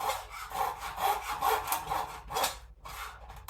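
A hand saw cuts wood in a miter box during guitar building, with loud, quick back-and-forth strokes in a steady rhythm and a brief pause near the end.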